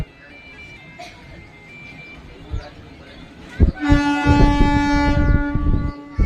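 A train passing nearby, starting with faint rumbling and distant tones, then swelling into a loud, sustained horn blast over heavy rolling clatter, with voices talking in the background.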